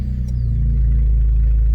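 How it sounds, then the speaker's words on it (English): Abarth 595 fitted with a Toyosports 200-cell sports catalytic converter exhaust, fired up and settling into a loud, steady low rumble with a brief higher whine at the start, close to the car and with no talking. "Let's start the car back up again"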